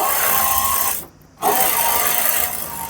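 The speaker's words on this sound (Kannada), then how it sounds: "ಸೊ ಈಗ ಇದನ್ನ ಎಡ್ಜ್ ಸ್ಟಿಚ್ ಹಾಕೊಳ್ಳಿ" Sewing machine edge-stitching the lining of a puff sleeve, a loud close steady whir that stops briefly in the middle and then resumes.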